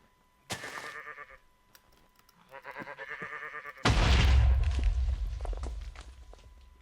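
Tainted sheep in Minecraft with the Thaumcraft mod, several short bleats in separate bursts followed by a louder crunchy blast with a low rumble that fades out.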